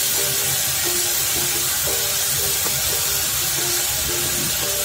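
Masala spice paste ground in a mixer sizzles in a hot pan, a continuous loud steamy hiss with faint stirring clinks underneath, steady and close throughout.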